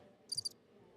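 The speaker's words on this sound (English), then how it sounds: "It's the crickets." A short burst of three quick cricket chirps from a sound effect played during a pool tournament broadcast, faint and crisp over quiet room tone.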